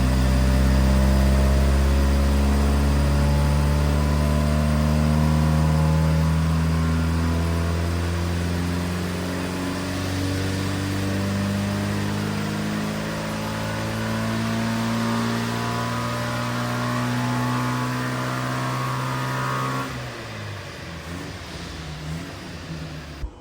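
A car engine fed by a Weber carburetor holds wide-open throttle, a loud sustained roar with steady harmonics for about twenty seconds before the revs drop off near the end, with no voices.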